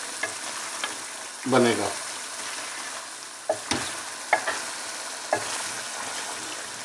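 Lamb karahi fries on full heat in a pan while being stirred, a steady sizzle broken by several sharp scraping strokes of the spoon, close up, with one brief spoken word.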